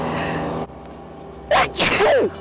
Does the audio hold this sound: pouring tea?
no